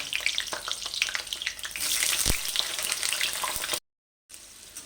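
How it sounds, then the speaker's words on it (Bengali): Brinjal slices sizzling steadily in hot oil in a home kitchen, a dense hissing fry with small crackles and occasional stirring clicks, close and continuous, then cutting off briefly near the end. "এবার ওই তেলের মধ্যে বেগুন দিয়ে দেবো বেগুনটাকে আমি দুবারে ভাজবো"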